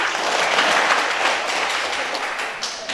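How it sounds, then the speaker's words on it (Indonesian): Audience applause at a wedding blessing ceremony, steady and dense clapping from a crowd filling the whole moment at an even, fairly loud level. "Tepuk tangan juga."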